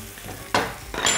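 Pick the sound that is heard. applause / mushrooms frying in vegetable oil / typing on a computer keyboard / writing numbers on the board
mushrooms frying in vegetable oil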